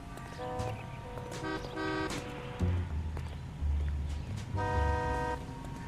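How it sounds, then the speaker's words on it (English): Car horn honks in the video game L.A. Noire, several repeated toots in bursts over street traffic and engine rumble, loud and close. "Can you stop honking your horn, please?"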